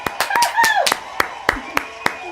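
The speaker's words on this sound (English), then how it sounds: "Can you hear the cheering there?" A small audience at a home quarantine livestream concert gives sparse, sharp hand claps at an even pace, with voices talking among them.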